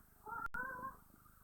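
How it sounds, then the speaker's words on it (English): A cat meows once, a short clear call with a faint purring edge, in the medieval fantasy world of The Witcher video game, heard quietly and close with a soft ambient background. "And there's cats."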